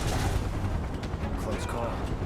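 Gunfire rumbles during a firefight in the video game Final Fantasy VII Remake, a dense loud barrage of blasts and rattling shots against continuous battle noise.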